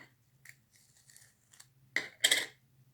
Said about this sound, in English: now I'm going to peel this up